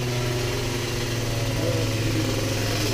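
A Malossi engine runs at the Malossi workshop in Italy, a loud, close, continuous mechanical drone that holds steady and swells slightly as it revs.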